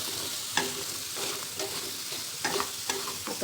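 Fasting-day thalipeeth frying in a pan and being stirred, a continuous sizzle broken by several knocks and scrapes of the utensil against the pan.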